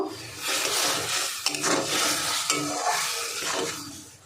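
Green chili paste being stirred into shapla stems with shrimp in a pan, with a continuous hissing sizzle and scraping stirring strokes, close and fairly loud, no voices.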